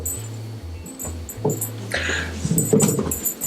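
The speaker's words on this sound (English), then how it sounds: "Dog's having a difficult decision picking out which toy she wants." A dog lets out a string of short, high whimpers and whiny yips close by while choosing a toy, the soft cries broken by brief rustles and a low background hum.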